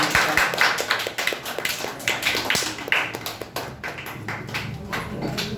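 A dense patter of hand claps from a small group at a public speaking competition, steady and close, continuing throughout with no voices over it.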